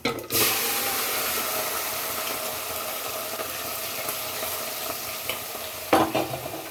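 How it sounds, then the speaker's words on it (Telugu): Thinly sliced cucumber, onion and green chillies hit a hot tempering of curry leaves with a sudden burst of sizzle, then a steady close frying hiss, with a few utensil clinks and a scrape near the end. "ఈ సన్నగా తరిగి పెట్టుకున్న దోసకాయ ఉల్లిపాయ పచ్చిమిరపకాయ ముక్కలు ఈ తాలింపులో వేసుకోవాలి"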